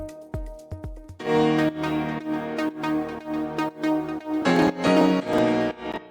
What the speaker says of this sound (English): Let's create a simple Afro House pluck melody.